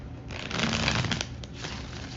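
Tarot cards shuffle continuously, a soft papery riffling and sliding held close and steady for a couple of seconds, alone without voices.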